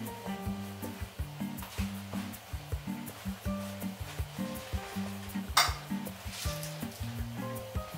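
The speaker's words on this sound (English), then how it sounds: "I'm scraping out my squash." A utensil scraping the cooked flesh of a spaghetti squash out to the skin, soft repeated scrapes and light clinks against the dish, quiet and close, over a low background hum.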